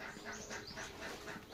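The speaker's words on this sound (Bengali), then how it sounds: "আবার কবুতর আওয়াজ ধরেছে" Pigeons in a flock of around fifteen to twenty kept by a household give a soft, repeated cooing in steady low rhythmic phrases, fairly close and quiet, with no one talking.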